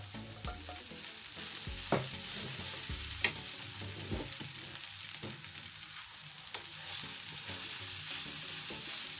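Beef stew ingredients seasoned with soy sauce are stirred in a hot pan, giving a constant sizzle under repeated scraping and knocking strokes of a spoon, close and fairly loud.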